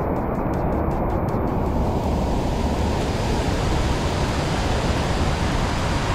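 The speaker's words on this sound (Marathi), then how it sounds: "होऊ शकेल तेवढा थोडासा जवळ जाऊन दाखवण्याचा प्रयत्न करतो का धबधब्याचा रौद्र रूप कसं राहते" Nanemachi waterfall in the Sahyadri hills roars under high water pressure, a dense, powerful, continuous rush heard close and loud, with no speech.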